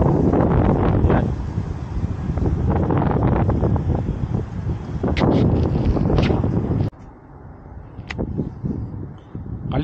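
Strong gusts of winter wind outdoors in South Korea, near a factory below a mountain, buffet the microphone in rough, rushing waves, dropping to a quieter breeze near the end.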